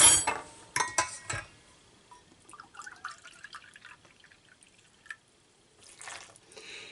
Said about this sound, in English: And then I need to add about 3/4 cup of water.